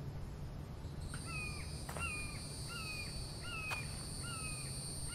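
A crow in The Infected caws five times in an even, repeated series, each call a short hoarse rasp, heard moderately close over a quiet ambient hum.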